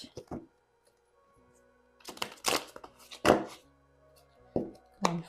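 Tarot cards being shuffled by hand, heard as several short, close, papery bursts of riffling and slapping separated by quiet gaps, with a faint voice in the background.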